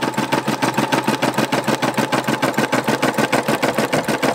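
An embroidery machine stitches a gray border onto a patch, giving a loud, close, fast mechanical chatter with an even, pulsing rhythm.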